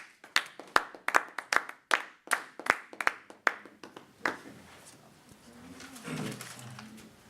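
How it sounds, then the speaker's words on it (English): Clapping from an audience welcoming a speaker to a religious gathering: a brief burst of sharp, irregular claps up front that thins out and gives way to low murmuring and room noise. "let's bring our brother up with a warm round of applause, Brother Andre X."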